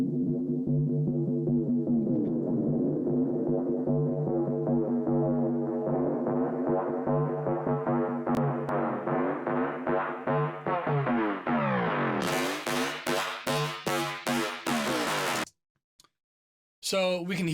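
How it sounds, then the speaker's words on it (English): EDM synth build-up before a drop, played with frequencies filtered out and washed in reverb so it seems distant. It grows brighter and more rhythmic as it swells, then cuts to a brief silence. "we're going to play it with some of the frequencies cut out and maybe with some reverb or some washout."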